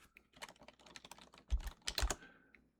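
Quick typing on a computer keyboard, a close, irregular run of light key clicks with a few heavier strokes, alone without speech.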